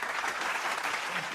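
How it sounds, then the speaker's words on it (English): An audience at a Kwame Nkrumah Memorial Day event gives a round of applause, a brief, steady wash of many hands clapping at moderate volume. "Let's give him a round of applause."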